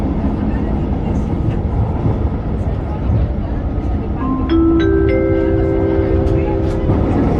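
A passenger train on the Makassar–Parepare line rumbles steadily along the rails with a loud, constant low roar, heard from inside, and a couple of tonal chimes sound partway through.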